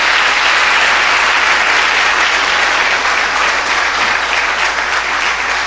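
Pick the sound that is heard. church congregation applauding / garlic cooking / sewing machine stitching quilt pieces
church congregation applauding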